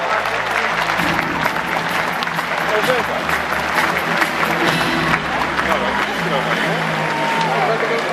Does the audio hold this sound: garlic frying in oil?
no